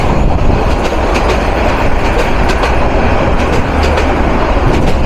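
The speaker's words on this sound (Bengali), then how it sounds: "থ্রু পাস করে যাচ্ছে পেয়ারপুর রেলওয়ে স্টেশন" The Agnibina intercity express, hauled by locomotive 2401, speeds through Payarpur railway station with a loud, continuous roar of wheels and rhythmic clatter over the rails, close and sustained.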